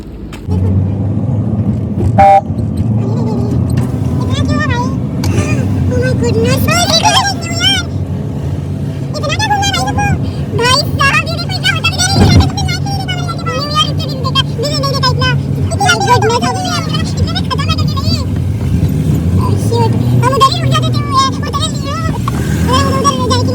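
Road traffic on jammed roads in Goa, with engines rumbling close by and car horns honking in short, repeated bursts; people talk over the noise throughout.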